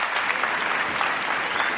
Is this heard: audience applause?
yes